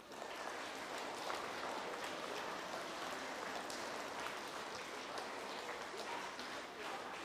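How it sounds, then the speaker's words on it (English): A school audience claps steadily throughout at an elementary Student of the Month ceremony, a dense, continuous patter of many hands that sounds almost like rain and holds even loudness from start to finish. "I know it's hard to clap this much."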